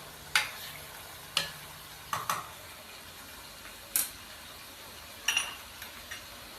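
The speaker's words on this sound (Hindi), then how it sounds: "हमने चिकन को 5 मिनट फ्राई कर लिया है" Boneless chicken frying in a handi pot as it is stirred, giving a series of sharp, scattered clinks and scrapes over a faint, low sizzle, with no voices.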